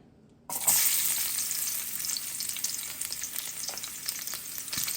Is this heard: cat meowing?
no